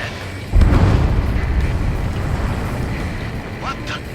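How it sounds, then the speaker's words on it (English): Underwater explosion in the Ace Combat 7 video game: a sudden deep, muffled boom that swells into a heavy low rumble and rolls on for several seconds, with faint higher effects near the end. "A huge explosion just went off underwater."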